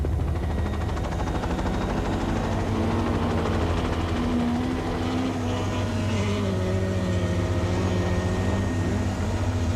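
Audi rally car at the 1986 Wesbank International Rally, its exhaust crackling from fuel starvation over a steady loud engine drone, continuous and close for the whole stretch.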